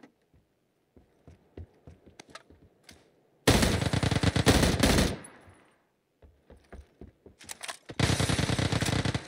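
Video game gunfire comes in two long, loud automatic bursts, with scattered single shots and clicks in the quieter stretches between them.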